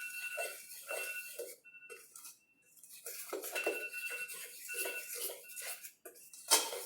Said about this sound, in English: So you gently mix it together.